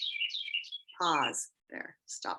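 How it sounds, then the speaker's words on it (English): High chirping calls of bats streaming from a live wildlife camera, a thin warbling sequence that gives way to a person speaking over the feed. "it's the bats, and they're making noises."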